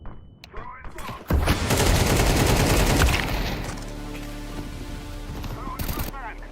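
A smoke grenade goes off in the video game Counter-Strike 2 with a sharp burst, then a loud, steady hiss that slowly fades while other game sounds carry on.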